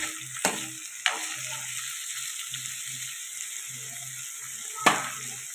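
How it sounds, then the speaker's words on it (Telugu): Prawns frying in hot oil, a continuous close sizzle with a few sharp spatula knocks and scrapes against the pan, no talking. "ఇలా ప్రాన్స్ ఫ్రై అవుతున్నాయి కదండి"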